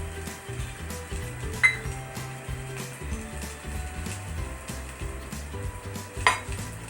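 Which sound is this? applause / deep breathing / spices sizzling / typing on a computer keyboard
spices sizzling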